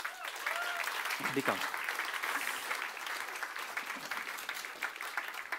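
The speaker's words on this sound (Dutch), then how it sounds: "Geef hem een warm applaus." A live audience at an Amsterdam municipal election debate breaks into sustained applause that holds steady throughout, with a short spoken phrase briefly heard over the clapping.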